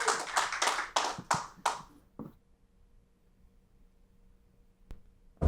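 A few people clapping briefly at an awards ceremony, a short run of close, distinct claps that stops after about two seconds, leaving quiet room tone.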